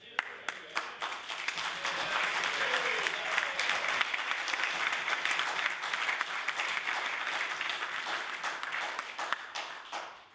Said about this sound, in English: I know Ed really appreciates the round of applause from his colleagues in the House here